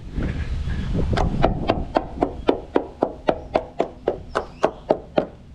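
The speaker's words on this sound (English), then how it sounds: "I'm going to tap around the keel. You can hear that's all really solid." Someone taps along a boat's solid keel, making about eighteen crisp, evenly spaced knocks that grow sharper and louder as they go, close up with no talking.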